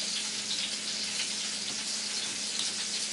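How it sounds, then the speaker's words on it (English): Chicken pieces frying in a pan, giving a steady, even sizzle with crackling throughout, close and moderately loud, with no talking. "while the chicken is frying"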